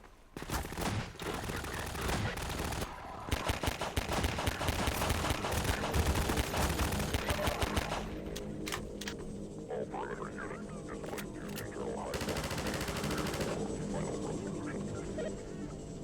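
Dense bursts of rapid automatic gunfire from the Half-Life 2 video game crackle almost continuously, then give way to scattered single shots and softer game sounds.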